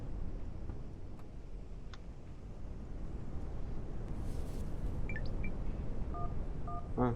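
Short electronic dial tones beep in a quick sequence near the end as a phone dials an ambulance in a car accident game, over a steady low rumble of background noise.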